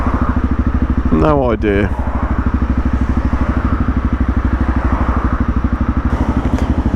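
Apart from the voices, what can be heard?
Honda CRF250 Rally motorcycle engine while riding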